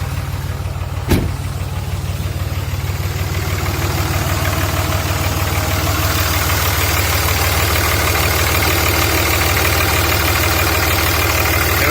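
A 2003 Dodge Ram with the 5.9 Cummins diesel engine idles loud and close after starting, a steady low rumble with a diesel knock and a sharp click near the start, with no talking.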